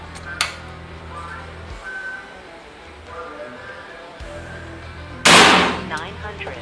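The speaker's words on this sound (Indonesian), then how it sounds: "Lanjut ke tembakan yang kelima." A GK Mini Gen 3 PCP air rifle, unregulated, fires once near the end: a single sharp, loud crack with a quick decay, preceded by a faint click and set against a steady noisy background.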